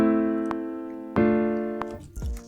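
A compact triad chord progression sounds, voiced down an octave, with sustained keyboard chords changing every second or so. A short low thump comes near the end. It is clear and alone, with no voice.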